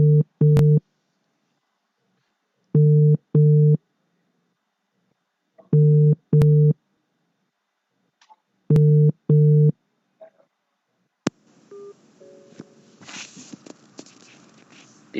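A telephone busy tone sounds while a line is being dialed, a repeating series of short beeps in pairs with silences between, followed by faint rustling and handling noise.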